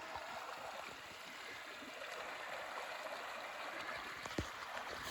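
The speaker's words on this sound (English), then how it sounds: "So this is the second stream crossing" Stream flowing at a woodland stream crossing in Hemlock Gorge in fall, a steady soft rushing and trickling of water heard close by, continuous and fairly quiet with no voices.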